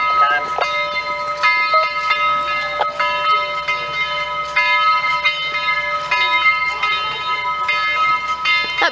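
Locomotive 4501's bell rings steadily over a low rumble as the train draws near, the clanging persistent and fairly close throughout.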